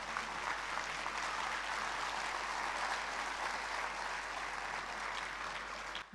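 Sustained audience applause at a community service gathering in Gujarat, a dense, steady wash of clapping from a large crowd that holds evenly for about six seconds before cutting off.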